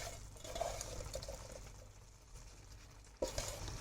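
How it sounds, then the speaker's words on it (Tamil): Prawns drop into hot masala in a pan, giving a soft, steady sizzle with light stirring scrapes and a sudden brighter burst of frying near the end. "இப்போ நம்ம எடுத்து வச்சுருக்க ப்ரான் ஆட் பண்ணிக்கலாம்."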